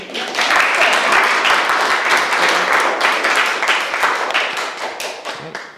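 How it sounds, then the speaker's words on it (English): A big round of applause from an audience at a talk about electric vehicles, dense steady clapping filling the room for several seconds without a break. "Can we just have another big round of applause for our amazing..."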